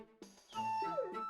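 A cartoonish dog from the video game Breath of Fire IV gives a few short yips and a drawn-out whimpering howl, clear and close over quiet game audio.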